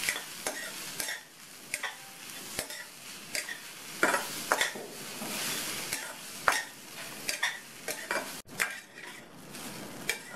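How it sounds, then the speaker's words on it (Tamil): A spoon stirs raw plantain and coconut in a pan, giving busy scraping and clinking strokes over a light sizzle, fairly loud and close, with no talking. "நல்லா கலந்து விட்டுடலாம்."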